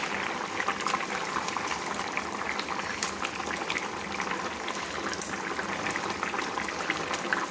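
Silver carp fish curry with drumstick pods, fried fish pieces added to the pot: a soft, continuous bubbling and simmering with faint liquid crackles, steady and quiet throughout.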